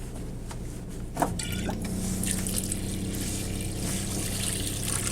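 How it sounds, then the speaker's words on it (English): Water running from a tap inside an old coach converted to a motorhome, a steady close trickle and rush with a faint pump hum beneath, after a brief knock near the start. "running hot and cold water."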